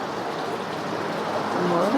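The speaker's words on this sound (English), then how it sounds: "Let's see, another water feature." A garden water feature at a nursery and garden shop gives off a steady, close splashing rush of flowing water, continuous for the whole moment, with a faint voice starting near the end.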